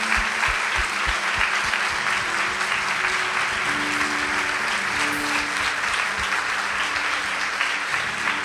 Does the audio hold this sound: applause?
yes